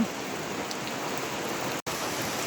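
Steady rain pouring down, a dense continuous hiss with no voices, briefly cut off for an instant near the end.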